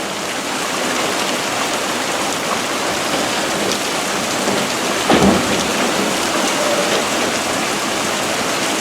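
Steady, close rainfall in Prescott, Arizona, with a short, sharp crack of thunder about midway through before the rain hisses on unchanged.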